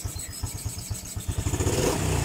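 A Honda Supra 125 FI motorcycle engine kick-started and firing up at once, with a rhythmic low thumping idle that quickens and grows louder near the end, heard close with no talk.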